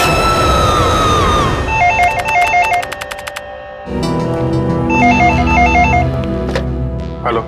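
A telephone rings with a loud electronic warbling ringtone in repeated bursts, interrupted partway by a sudden dramatic music hit and rumble before the ringing resumes over it.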